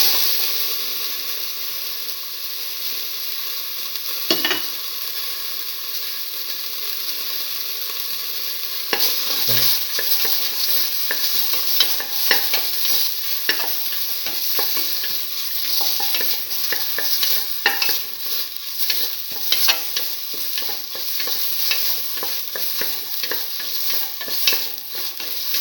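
Tomato paste sautéing in a pan, a long steady hiss and sizzle with frequent scraping and tapping of a spatula as it is stirred, growing busier partway through.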